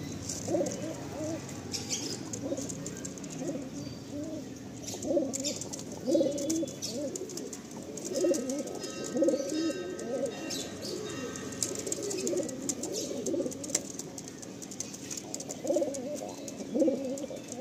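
Madrasi Andhra pigeons, a pair of males, coo steadily at close range in low rolling, repeated phrases throughout, with faint background noise and occasional light rustles.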